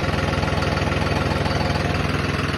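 A tractor engine idles with a steady, even low throb and a fast regular pulse, close and loud, with no talking.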